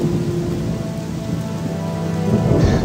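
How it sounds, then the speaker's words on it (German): Steady rain from a Gothic II Archolos mod game scene, a dense continuous patter with a low rumble beneath, like a thunderstorm, holding loud and even throughout. "scheiß Regen, ey, der nervt mich gerade ein bisschen."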